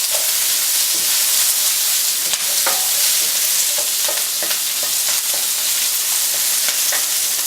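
Onions sizzle loudly in a pan as they are stirred and tossed, a dense continuous hiss broken by scattered clicks and scrapes, with no talk.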